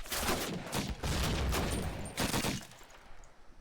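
Rapid gunfire in Call of Duty: United Offensive during a competitive match, several dense bursts of close shots over a few seconds, tapering off near the end, with no voices.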